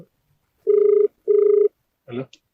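Two long electronic ringing tones sound close and clear, separated by a short gap, followed by a brief burst of a voice.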